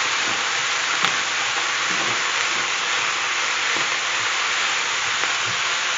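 Minced beef for chili sizzles loudly and steadily in a hot pan, a dense unbroken hiss with faint scraping of a spoon stirring and pressing the meat, heard close with no talking.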